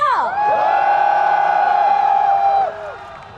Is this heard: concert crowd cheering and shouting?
yes